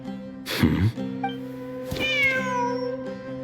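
A cat in Genshin Impact meows clearly, with one loud, wavering call near the start and a second drawn-out meow with rising and falling harmonics later, all over a steady game music drone.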